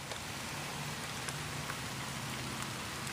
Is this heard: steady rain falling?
yes